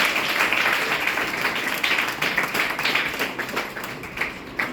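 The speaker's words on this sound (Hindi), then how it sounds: "एक बार और तालियों का स्वागत कीजिए।" An indoor audience at a coaching-institute gathering claps for several seconds, a dense, fairly close patter that swells and fades slightly, with a faint voice underneath.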